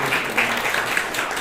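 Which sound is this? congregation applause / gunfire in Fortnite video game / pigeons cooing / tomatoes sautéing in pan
congregation applause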